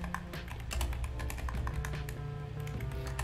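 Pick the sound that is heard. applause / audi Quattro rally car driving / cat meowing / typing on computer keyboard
typing on computer keyboard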